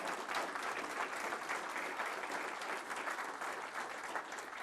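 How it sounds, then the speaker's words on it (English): An audience at a county political candidate forum applauds the candidates, a steady, even wash of clapping that carries through the whole stretch without letting up. "Let's give all our candidates one more round of applause."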